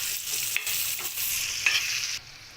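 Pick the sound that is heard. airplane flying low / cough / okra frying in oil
okra frying in oil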